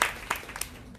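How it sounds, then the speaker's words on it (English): An audience at a trans allyship gathering claps for the person who set up the food. It is a short, dense burst of applause that starts loud and fades slightly over about a second. "Can we get a round of applause?"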